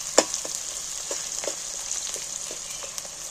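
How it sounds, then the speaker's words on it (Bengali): Onions frying in a pan for a desi-style chicken curry, a steady close sizzle with soft scraping stir strokes repeating every half second or so, no voices. "এইবার আমি একটু নাড়াচাড়া করে ভেজে নিই।"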